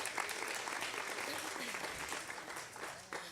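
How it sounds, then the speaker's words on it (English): A church congregation gives a round of applause for a practitioner, a dense, steady wash of clapping that continues at moderate volume throughout. "Give her a round of applause, guys"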